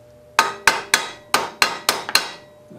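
Sharp hammer blows ring out on metal while a basket for an antique bike is fabricated, seven loud close strikes in an uneven rhythm, each ringing briefly before fading.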